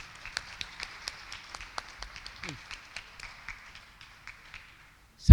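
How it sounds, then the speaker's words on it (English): Scattered, sparse clapping from an audience at a World Peace Forum in a Jakarta hotel ballroom, greeting the President of Timor-Leste: separate claps at uneven intervals, moderately distant, ending with one louder close thump. "a very big round of applause for His Excellency"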